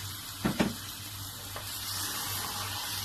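Potatoes for an achari baingan aloo sabzi go into hot oil in a pan, giving two quick spattering bursts. A soft, steady sizzle follows and keeps going quietly, with no voices.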